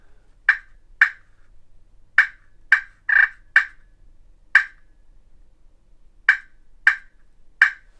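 A wild turkey calls in the woods: about ten short, sharp notes, loud and clear, spaced unevenly over several seconds against near silence.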